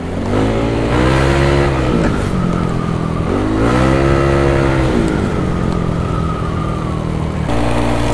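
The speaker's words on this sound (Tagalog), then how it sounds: "Naririnig nyo naman siguro yung tunog ng tambucho kahit di siya ganun kaingay" A Yamaha Aerox scooter exhaust revs up and falls back twice, a throaty rising and dropping engine roar close by, steady and loud throughout.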